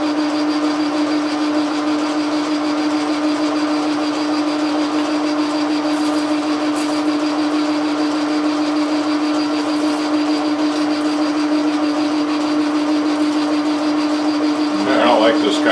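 A lathe turns a declination shaft lubricated with thicker oil, giving a steady, loud mechanical drone with a constant hum that runs unbroken, and a brief rougher scrape near the end.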